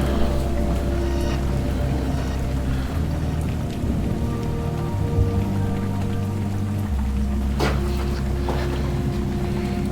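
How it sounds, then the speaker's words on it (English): Rain falling steadily outside an abandoned sanatorium building, a continuous close patter and hiss of drops on surfaces with low background rumble, no voices. "Okay, so it's starting to rain."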